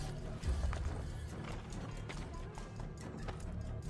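Horse hooves clip-clopping through city streets in Assassin's Creed Brotherhood, a steady rapid gallop at moderate distance under a busy game soundscape, with no talk over it.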